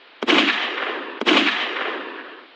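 Two loud gunshots in a dramatized shootout, each a sharp crack followed by a long echoing decay about a second apart, no voices.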